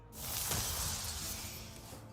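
The Shard Shatter card effect from the Hearthstone video game plays as a bright, crisp glassy shatter that bursts at once and then rings down in a shimmering tail.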